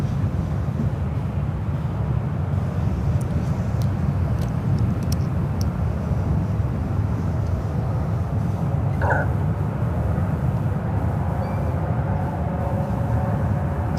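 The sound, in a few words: Boeing 737-700 airliner departing San Francisco airport for Denver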